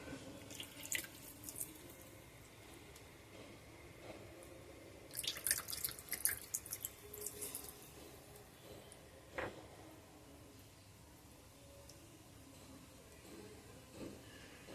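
Water is added by hand to a mixture for a spicy mourala fish and jackfruit seed curry, giving quiet drips and a cluster of light splashes midway, with no talking.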